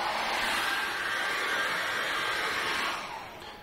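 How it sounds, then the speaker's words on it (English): A hairdryer blows on acrylic paint on a canvas, a loud, steady whooshing roar that runs alone for several seconds before tapering slightly at the end. "So I'm going to dry this with a hairdryer now"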